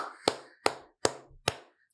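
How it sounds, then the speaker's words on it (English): Four slow, separate hand claps sound close and sharp in a quiet podcast studio, evenly spaced, each with a short ringing decay. The hosts clap for their guest, comedian Harland Williams. "You better clap for yourself, Harland Williams."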